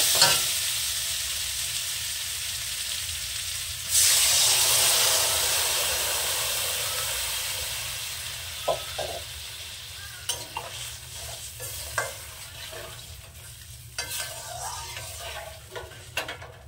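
A radish and puti fish curry fries quietly in a pan until water is poured in, setting off a sudden loud hissing burst that slowly fades into a gentle simmer broken by sharp spoon clicks and scrapes.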